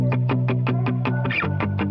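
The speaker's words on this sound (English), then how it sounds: "So then it adds like a pumping effect." A guitar loop swells and dips in volume with a rhythmic pumping pulse, about four beats per second, loud and close with no voices.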